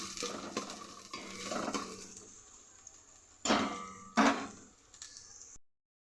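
Chopped onions are stirred with a utensil in a steel pan over a low flame: soft scraping and faint sizzling, then two sharp metallic scrapes and clanks, quiet overall and without speech.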